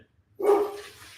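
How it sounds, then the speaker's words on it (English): A pet dog indoors gives a single sharp bark after a moment of silence, moderately close and fairly loud, trailing off quickly with no talking. "My dog is going crazy."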